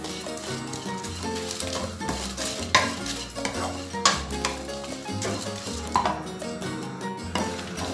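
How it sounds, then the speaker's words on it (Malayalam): Ingredients for a bitter gourd theeyal, including onions, are roasted and stirred in a pan, giving repeated close scraping strokes and occasional knocks over a steady sizzle, with no one talking. "പിന്നെ ഇത് ഞാൻ നന്നായിട്ട് വറുത്ത് പോരട്ടെ."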